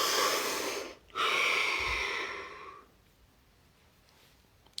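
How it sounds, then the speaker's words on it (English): A person takes a deep breath: a long, close inhalation, a brief pause, then a strong drawn-out airy breath that fades into quiet room tone, with no talking. "Deep breath."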